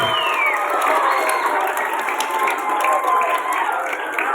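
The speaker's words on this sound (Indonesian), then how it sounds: "mana tepuk tangannya?" Schoolchildren at an elementary school National Education Day ceremony applaud in a dense, steady burst of clapping, with some crowd noise mixed in.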